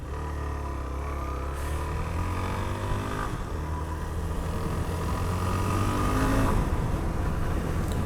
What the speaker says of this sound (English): I'm just going to dump down the whole box here